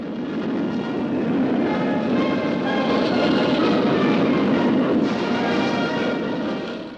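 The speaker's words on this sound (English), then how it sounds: "overhead flew 10 long-range Tu-95s, capable of delivering a nuclear bomb all the way to America" Ten Tu-95 long-range bombers pass overhead at the Moscow Air Show as a loud, dense, continuous roar that swells and then eases off slightly toward the end, with no voices.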